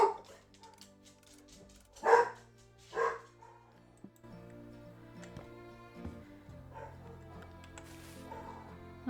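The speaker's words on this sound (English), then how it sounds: "It's gonna just be impossible for me to have any video recording with that some dog barking in the background." A dog barks and yips a couple of times in the background of a House Flipper 2 game scene, moderately loud at first and then fading into quieter ambient sound with no speech.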